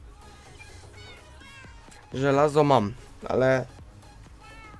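Cats in the video game Minecraft let out two loud meows in quick succession, close and clear, while someone speaks quietly in Polish underneath.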